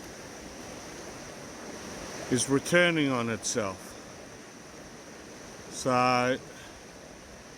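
Steady rushing wash of Sailors Creek in Daylesford pouring over bedrock, a continuous broadband roar that runs through the whole stretch, with someone talking over it in two short bursts.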